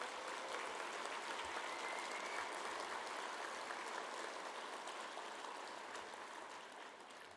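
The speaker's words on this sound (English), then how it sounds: "please join me in a round of applause" An audience applauds at a geoparks conference opening ceremony, a steady dense wash of clapping that holds for several seconds and gradually thins toward the end.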